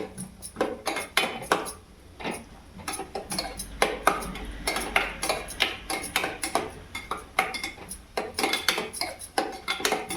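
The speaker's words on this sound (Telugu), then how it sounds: "దీంట్లోకి జీడిపప్పు ద్రాక్ష కూడా వేసేసుకోవచ్చు ఎవరి ఆప్షన్ అయితే అది వీటిని బాగా గోల్డెన్ కలర్ వచ్చేటట్టు ఫ్రై చేసుకుందాము" Cashews and raisins frying in a pan until golden, with steady clinks and scrapes of a metal spoon stirring against the pan, close and fairly busy throughout, with a faint low sizzle beneath and no talking.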